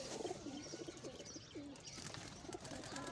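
Breeder pigeons in a loft coo softly and repeatedly, their low rolling calls overlapping in a steady murmur with a few faint chirps against a hissy background.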